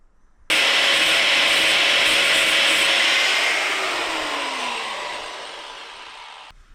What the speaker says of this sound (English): I've got to just carefully grind them little bits off